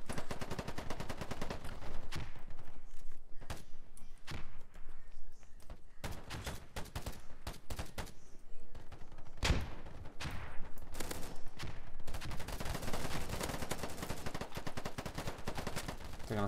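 Gunfire in the online shooter Polygon rattles close and loud in rapid bursts and single shots. Dense stretches of firing break off into brief quieter gaps.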